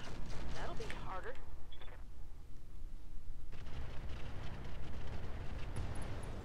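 A rotary cannon on a mech in the BattleTech game Roguetech fires in a steady, dense roar of rapid booms that carries through the whole stretch, heavy and close.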